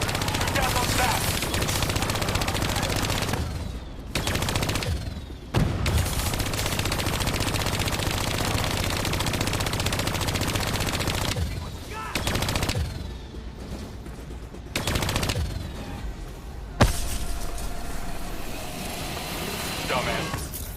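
Rapid automatic gunfire and weapon blasts from the Call of Duty Black Ops 3 video game run almost continuously and loudly, with short breaks where voices and game effects come through.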